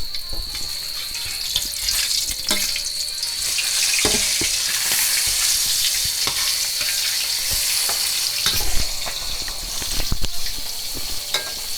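Mackerel fries in hot oil in a high-powered turbo wok, a loud, steady sizzle with bright crackling spatter and occasional clinks, no talk.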